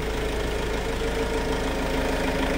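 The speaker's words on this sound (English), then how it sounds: "the largest naturally aspirated diesel engine that you can put in there. It's a four cylinder." A Kubota four-cylinder naturally aspirated diesel in a new Hangcha 5000 lb forklift idling steadily, a loud, close, even knocking rumble with no other sounds.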